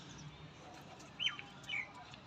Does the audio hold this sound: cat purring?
no